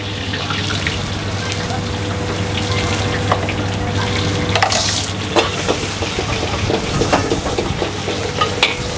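Fried rice sizzles steadily in a hot wok while a utensil scrapes and clatters against the metal, loud and close, with occasional sharp taps.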